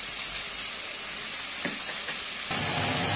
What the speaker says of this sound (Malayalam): ഇതിലേക്ക് നമ്മൾ പച്ചമുളകും ഉപ്പും എല്ലാം ഇട്ട് കേബേജ് ഇടാം.